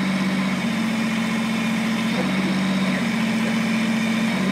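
A Kubota BX2380 compact tractor engine runs steadily at about 2,000 RPM, a loud, continuous hum with a low, even drone and no breaks throughout.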